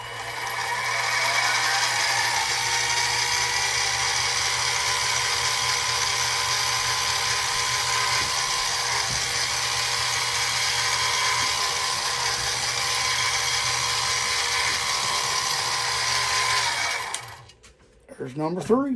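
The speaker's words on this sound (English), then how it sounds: "y'all seen me drill these 3 holes" A power drill bores holes into a knife blank with a steady, loud, high-pitched whine. It runs continuously for about seventeen seconds and then winds down. Someone speaks briefly near the end.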